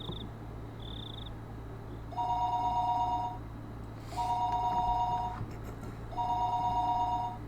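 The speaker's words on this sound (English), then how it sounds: "The phone suddenly rang." A telephone rings in the Higurashi When They Cry visual novel, three long electronic trills spaced evenly over a low steady hum and chirping insects, with a couple of short high beeps before the first ring.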